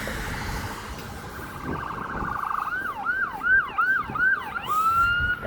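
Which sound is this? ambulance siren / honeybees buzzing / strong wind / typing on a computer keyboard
ambulance siren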